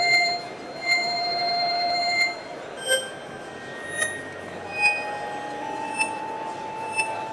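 A wavetable tone from a Knobula Pianophonic synthesizer module plays backwards as a chain of bell-like notes that swell and cut off, roughly one per second, at changing pitches, moderately loud with no talk.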